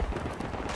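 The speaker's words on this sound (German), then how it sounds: "ich höre schon wieder Schüsse, die an meiner Rübe vorbeizischen" Gunfire in the World War I shooter game Tannenberg, a brief dense burst of rumbling shots and crackling impacts, fairly loud and continuous for under a second with no talk.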